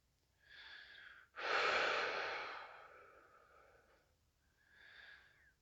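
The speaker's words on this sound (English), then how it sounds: "Just breathing out, releasing, letting go." Slow, audible exhalations from one person in a quiet space: a short breath out, then a long, loud sigh that fades gradually over a few seconds before another soft breath follows.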